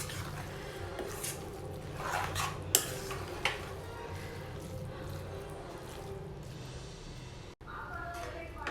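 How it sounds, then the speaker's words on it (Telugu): A spatula stirs a spring onion and egg fry in a pan, with intermittent scrapes and clinks of utensil against metal over a faint sizzle, close by, and a voice talks over it. "ఎగ్ ఫ్రై అంతా కూడా మధ్య మధ్యలో మిక్స్ చేసుకుంటూ ఫ్రై చేసుకోవాలండి"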